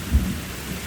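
Thunder rumbles low beneath steady rain falling on surfaces, a brief broadband wash with a heavier swell at the start.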